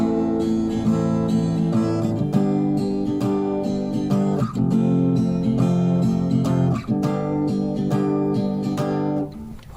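An acoustic guitar is strummed in a steady down-up pattern for a song, chords ringing loud and close with regular rhythmic strokes and no talking.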